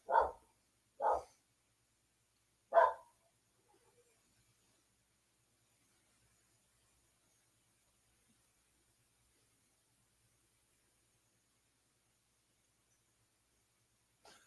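A dog barks three times in quick succession, loud and close, followed by a long stretch of near silence.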